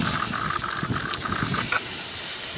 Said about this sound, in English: nice, beautiful grill mark, sizzling, nearly done